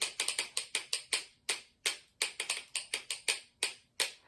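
Sharp wooden clicks from homemade castanets in a quick, uneven rhythmic pattern counted in threes, close and fairly loud, with brief gaps between groups of clicks and no talking.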